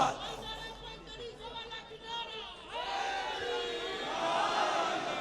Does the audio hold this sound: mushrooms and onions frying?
no